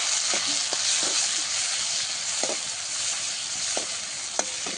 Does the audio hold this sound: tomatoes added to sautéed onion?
yes